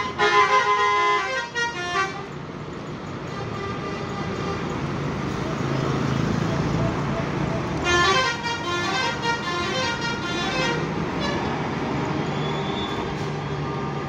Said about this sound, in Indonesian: Saling klakson itu keluar karena penumpang sudah full, pengen cepat berangkat tapi masih tersendat.